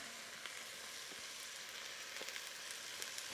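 Onions and garlic sizzle in a pot for a vegan lentil soup, a faint, even hiss dotted with small pops and crackles, with no voices.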